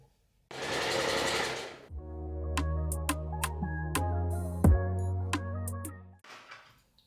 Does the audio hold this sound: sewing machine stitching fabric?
yes